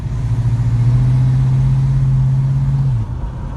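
A 1969 Pontiac Firebird with a freshly rebuilt 400 engine drives on its first run after break-in, its steady low engine drone holding close and loud before shifting down near the end.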